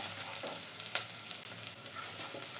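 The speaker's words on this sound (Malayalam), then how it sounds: "ഇപ്പോൾ സവാളയും വേപ്പിലയും എല്ലാം കൂടെ നന്നായി തന്നെ വഴറ്റിയെടുത്തിട്ടുണ്ട്" Chopped onion and curry leaves sizzle in an oiled pan, giving a steady close frying hiss with occasional stirring scrapes.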